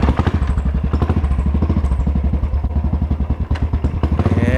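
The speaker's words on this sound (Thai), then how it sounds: "เดี๋ยวเราลองไปขับเล่นกันอีกสักทีนึงน่าจะมั่นใจมากขึ้น" A Royal Enfield Classic 500 single-cylinder motorcycle being ridden after a repair, its loud, steady thumping exhaust beat close up and running throughout, with a few extra clunks from the bike.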